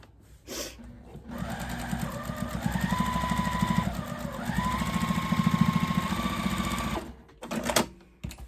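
A sewing machine quilting a fabric table runner, running in a long steady buzzing stitch burst of several seconds with slight speed changes, close and loud, then stopping abruptly.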